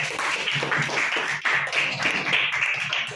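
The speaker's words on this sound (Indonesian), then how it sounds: "Ya, kasih tepuk tangan untuk kelompok kabel." A class of students claps for a small group of classmates after their cable experiment, a dense, steady patter of hands from many people close by that carries on without pause.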